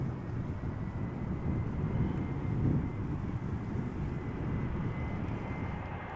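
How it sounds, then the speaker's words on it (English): A TUI Airbus A320 arriving at Amsterdam Schiphol from Palma de Mallorca gives a distant, steady low jet rumble, fairly faint, with a soft swell in the middle and nothing else over it. "Flying for TUI is Global X in a hybrid livery, arriving from Palma de Mallorca."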